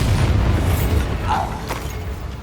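A Bombarda blasting spell in Hogwarts Legacy sets off a heavy, booming explosion rumble that is loud at the start and slowly fades, with some creaking debris noise as it decays.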